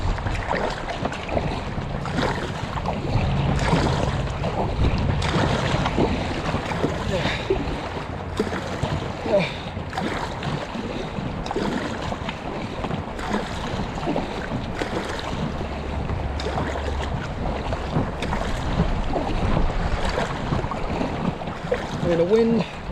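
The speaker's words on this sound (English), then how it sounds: "The wind and the water are definitely making for some interesting challenges today." Wind gusting against the microphone and water churning around a boat on the Aare river through swirling whirlpools, a continuous rough rush that stays loud for the whole stretch.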